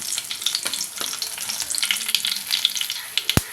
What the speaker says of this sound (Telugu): ఈ పోపుని బాగా వేయించుకుందాం